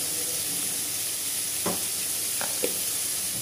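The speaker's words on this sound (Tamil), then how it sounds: "கொஞ்சோண்டு தண்ணி ஊற்றிக்கிறேன்" Chopped green chillies, mint and coriander sizzling in a pan after a splash of water, a steady broad hiss throughout with a few brief clinks of stirring near the end.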